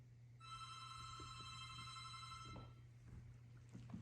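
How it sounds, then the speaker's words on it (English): A telephone rings once in a long trilling burst late at night in a silent, supposedly haunted house, faint and distant over a low steady hum. "the silence was interrupted by a phone ringing"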